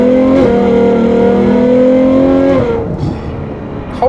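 A full-carbon Novitec Ferrari 812 N-Largo S V12 with Novitec exhaust revs close and loud, holding a high, steady wail for about two and a half seconds before the pitch drops away into a softer idle.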